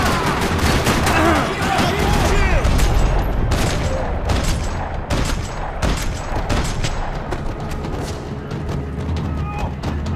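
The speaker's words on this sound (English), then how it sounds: "Another parking lot rattling with gunfire." Dense, rapid bursts of gunfire rattle continuously in a parking lot shootout in the video game Max Payne 3, over a loud, chaotic background, with voices faintly mixed in throughout.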